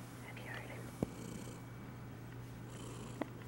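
A house cat purrs faintly and steadily up close, a low rumbling drone running under the quiet room with a couple of small clicks.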